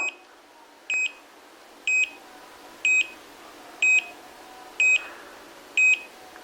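A hair-removal gadget bought from Amazon gives seven short, evenly spaced electronic beeps about one second apart, sharp and close, against a quiet background.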